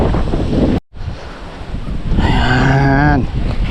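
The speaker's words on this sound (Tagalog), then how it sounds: "Lakas ng hangin." Strong wind buffets the microphone outdoors in a field during planting work, a steady loud rumble with a brief dropout near the start, and a low harmonic vocal-like tone rising midway under the gusts.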